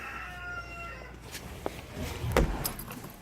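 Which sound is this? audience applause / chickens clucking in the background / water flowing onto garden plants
chickens clucking in the background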